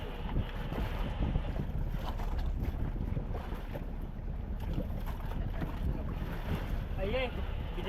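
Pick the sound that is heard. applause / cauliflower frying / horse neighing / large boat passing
large boat passing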